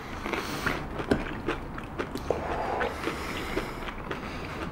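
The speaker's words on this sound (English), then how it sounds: "A lot of chewing." Someone chewing dry instant Maggi noodles close to the microphone, with irregular crunchy bites and crackles scattered over a few seconds, each snap short and fairly loud.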